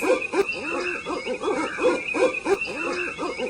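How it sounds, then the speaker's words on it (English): Repeated hooting calls with a rising-falling pitch, several in a row at a steady rhythm, fairly close and clear with no talking. "Owl is the bird that has very big eyes. And the sound of this bird is"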